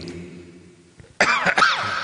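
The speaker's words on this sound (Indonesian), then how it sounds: "Paling batuk-batuk dikit." A couple of short, sharp coughs burst out close to the microphone after a moment of quiet hum.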